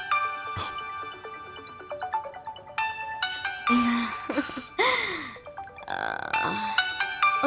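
A phone ringtone in a Hindi-dubbed TV drama plays a bright stepped electronic melody of sustained tones for a few seconds before other noises and movement take over.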